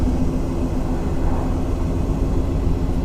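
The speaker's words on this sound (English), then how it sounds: "an airplane's flying over me" An unseen propeller airplane passes overhead outdoors, a loud, steady, broad droning rumble that holds evenly throughout with no voices.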